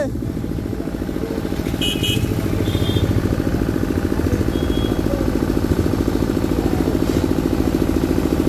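A motorcycle engine runs steadily throughout at close range, a continuous low rumble with slight clatter, while people talk over it.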